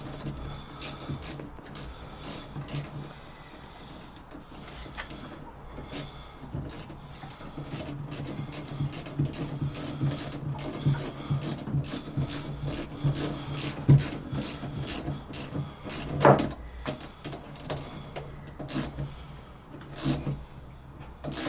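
Fitting being tightened on a sailboat, a run of quick ratcheting clicks in irregular bursts, close and fairly quiet, with a louder clunk near the end and no speech.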